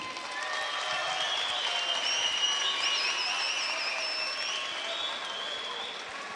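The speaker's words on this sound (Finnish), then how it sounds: "Antakaa Henri Hagertille ja Hussein Yusufille aplodit." Crowd applause after an ice cage fight bout, steady sustained clapping from a sizable audience filling the whole stretch with dense, even roar, no talk over it.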